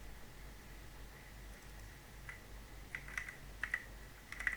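Typing on a computer keyboard while writing code, heard as sparse, quiet key clicks that grow into small bursts toward the end over a faint steady hiss, with no talking.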